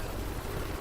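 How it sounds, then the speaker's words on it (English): A helicopter in the VRChat game gives off a steady, close rotor and engine rumble filling the whole brief moment. "Got a copter."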